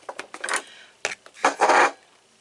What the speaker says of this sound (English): now let me stir this up. Get all these herbs put together